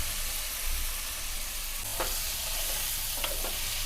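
Fried vegetables tossed into a spice masala sizzle steadily in the pan, a constant hiss of frying with a few scraping stirs of the spoon, no talk.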